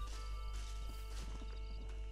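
Horse hooves clip-clopping in Red Dead Redemption, a quick run of soft irregular steps at a moderate distance over a steady low rumble of game ambience, with a brief whinny-like tone.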